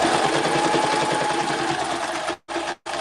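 A sewing machine stitches a paper junk journal cover with a loud, steady, close-up mechanical whir that runs unbroken, then cuts out twice in brief stops near the end.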